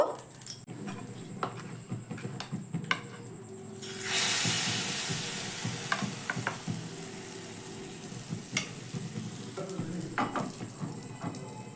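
Batter frying in a pan for a healthy tiffin snack, a steady close sizzle and hiss with a louder burst of frying partway through, plus small scrapes and clinks of utensils.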